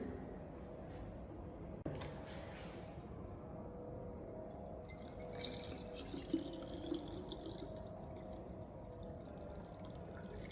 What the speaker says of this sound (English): the rest of the volume is filled with aerated water in such a way that the BOD bottle is completely filled